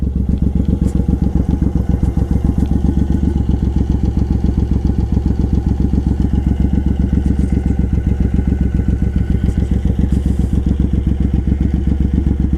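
A Suzuki M109R Boulevard motorcycle with a Cobra side-swept exhaust idles close by, its engine giving a loud, steady, rapid thumping pulse that runs evenly throughout.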